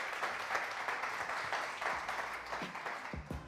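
Audience applause at a Bizkaia pintxo championship semifinal, a steady dense wash of clapping running throughout at even loudness, with a few louder individual claps near the end.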